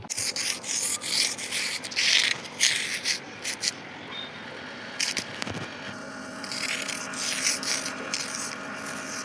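Pieces of thermocol (polystyrene) are rubbed together outdoors in a jungle, producing a continuous close, dry scratchy rubbing with rhythmic strokes that ease off briefly midway and then resume.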